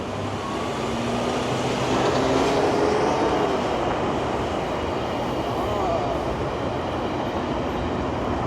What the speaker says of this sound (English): And another train going in the opposite direction.